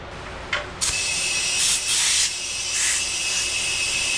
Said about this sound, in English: we're gonna use a clip-on air nozzle so I can free up a hand